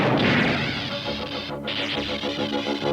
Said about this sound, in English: the cloud sent a deadly energy bolt smashing into their shields